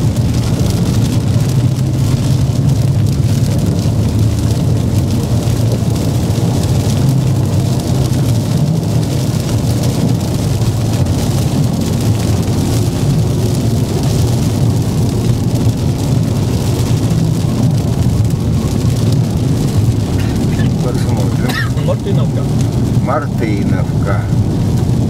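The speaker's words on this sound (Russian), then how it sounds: "ну вот и дождичек вроде бы потише" Rain easing off while driving along a road in the Rostov region, a steady broadband wash of light rain and car road noise throughout, with a few faint clicks near the end.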